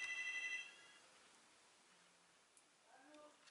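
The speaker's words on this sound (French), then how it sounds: "Hop, téléphone." A telephone rings in a short electronic trill that stops after about half a second, followed by quiet room noise and a faint voice.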